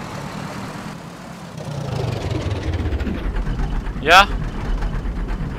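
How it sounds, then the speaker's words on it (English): Tractor engine idling in the survival game DayZ, a low steady rumble with knocking pulses, under a player's voice and a brief sharp sweeping squeal near the end. "I have a tractor, bro."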